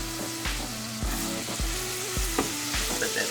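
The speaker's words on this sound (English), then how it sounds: "Let that saute a little bit." About a teaspoon of minced garlic sautés in butter and olive oil in a pan, a close, steady sizzle broken by several rhythmic scraping knocks of a utensil stirring, with no talking.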